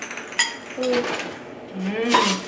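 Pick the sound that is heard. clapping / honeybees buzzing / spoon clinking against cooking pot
spoon clinking against cooking pot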